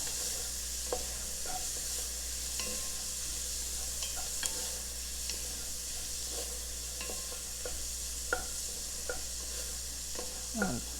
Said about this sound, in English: So you're just going to cook these for a few minutes until they get soft.